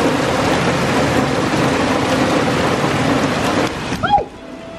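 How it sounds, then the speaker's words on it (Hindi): Heavy rain pouring down in a steady, loud, dense hiss that fills the air, with a brief crackling burst near the end as the downpour eases slightly. "बहुत ही खतरनाक बारिश आ रही है"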